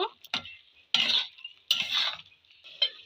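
Beef with tomato ketchup is stirred over low heat in a pan, with a spoon scraping in several separate close strokes and a faint sizzle between them.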